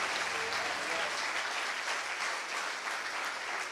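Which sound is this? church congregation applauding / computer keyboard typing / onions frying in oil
church congregation applauding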